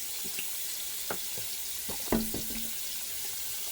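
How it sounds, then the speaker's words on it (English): Fairly hot water streams from a kitchen tap while hands are washed after handling raw sausage. The rush is continuous and close, broken by a few soft splashes and knocks. "I wash my hands."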